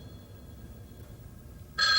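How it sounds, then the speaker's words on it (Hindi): A telephone bell starts ringing abruptly near the end after a quiet stretch, loud and close, its bright tone cutting in alone. "फोन को मत उठाना, ये तुम्हारी मौत की घंटी है।"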